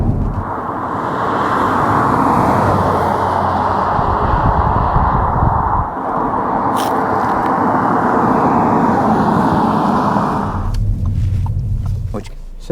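A 2022 Audi A4 S line quattro sedan is underway, giving a continuous rush of engine and road noise from inside the car. The noise fades and changes near the end.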